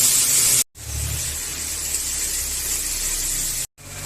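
Cumin and ground spice paste hit hot oil in a pan for frying fish, giving a loud steady sizzle and hiss that cuts out briefly near the start and again near the end, close up with no talk.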